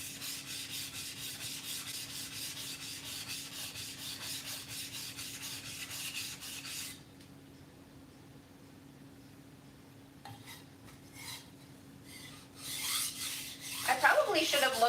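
A thick cleaver sharpened on a stone, steady rhythmic scraping strokes for several seconds, then a pause and a few quieter rubbing and clattering sounds near the end.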